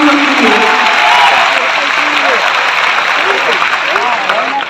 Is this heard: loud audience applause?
yes